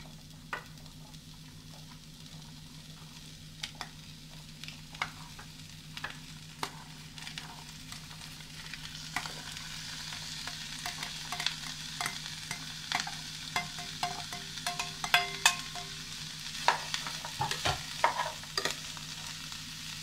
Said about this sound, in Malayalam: ഇനി ഇതിലേക്ക് അരിഞ്ഞു വെച്ചേക്കണ ബീൻസ് ചേർത്ത് കൊടുക്കാം